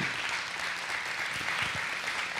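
A church congregation applauds during a Spanish-language sermon, with a steady, full wash of clapping that runs unbroken from start to finish and no voice standing out above it.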